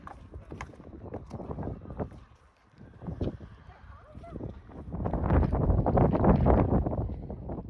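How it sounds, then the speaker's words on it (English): Gusty wind buffets the microphone at an outdoor show jumping arena, a steady roar that swells louder toward the end, with a horse's hoofbeats and a voice talking underneath. "as I'm sure you can already hear, it was rather windy"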